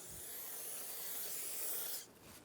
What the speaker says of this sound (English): Using a clean rag and parts cleaner, spray the rotor